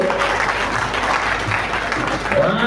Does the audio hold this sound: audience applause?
yes